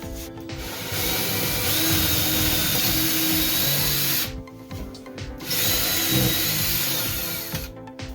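A power drill whirs loudly and steadily, grinding through a vintage trailer floor while installing a diesel heater, with a brief pause partway before drilling resumes close by.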